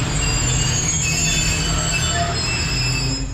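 Rehman Baba Express departing Kotri Junction, a loud, steady rail roar with squealing wheels and low rumble running continuously, close and alone without talk.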